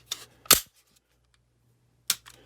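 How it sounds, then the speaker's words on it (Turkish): A pistol primer cap fires during a modular handgun system trial, giving two sharp, close snaps a moment apart with a fainter click just before the first. "İşte ilk defa kapsül patlatmış olduk böylece."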